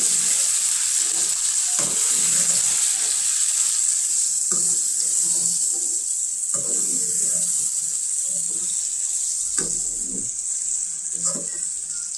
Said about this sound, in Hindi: ये देखिए माशाल्लाह हमारी सब्ज़ी बिल्कुल भुन गई है।